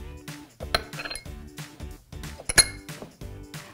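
Eggs, oil, buttermilk, vinegar and vanilla are whisked in a bowl, with a steady rhythmic clinking of the whisk against the sides, repeated quick strokes close up and no talking.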